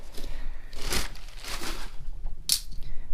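A blade slices through taped cardboard on the sides of a Razor SX-500 parts box, a couple of loud ripping strokes close by with brief scraping between them.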